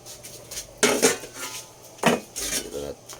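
A metal cooking pot handled outdoors beside a charcoal fire, with two distinct clanks and rattles of metal on metal, close and fairly loud, separated by quieter handling noise.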